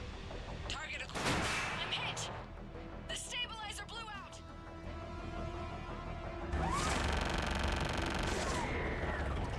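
Gunship fire in Mass Effect 3 comes in loud bursts of heavy shots mixed with whooshes and crashes, under clear radio-style talk.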